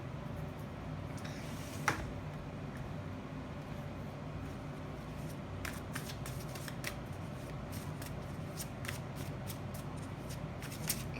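Tarot cards being shuffled and drawn, with soft papery riffles and brief card snaps scattered over a steady low background hum, close and fairly quiet.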